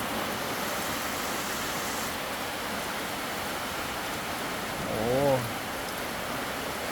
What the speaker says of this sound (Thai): ฝนตก นะครับ ตก นะครับวันนี้ตกเยิ้มๆเลยนะครับ